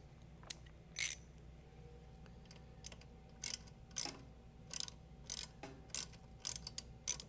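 A grounding screw on pool pump wiring is loosened with a screwdriver, heard as quiet, close, irregular metallic clicks and short ratcheting scrapes against a low background hum.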